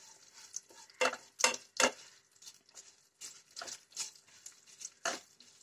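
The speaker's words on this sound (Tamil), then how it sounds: "நல்லா கொஞ்சம் பூண்டு பச்சை மிளகாலாம் வதங்கிடட்டும்." Garlic, green chilies and urad dal sauté in a pan, with irregular scraping and tapping of a spoon against the pan over a faint background, sounding close and fairly quiet.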